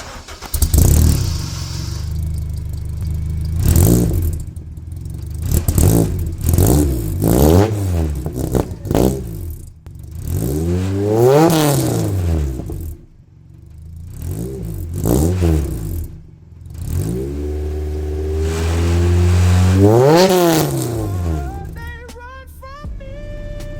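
A K-swapped Lotus with a 3-inch exhaust revs repeatedly, with sharp rising and falling bursts of engine note separated by idle pauses over roughly twenty seconds, loud and close, and no talking.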